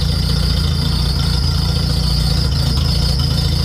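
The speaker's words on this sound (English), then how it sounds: "Super squeaky belt. Have to get that rectified." A squealing new alternator belt on a farm tractor gives a continuous high-pitched shriek over the steady low rumble of the idling engine, loud and close, with no talk.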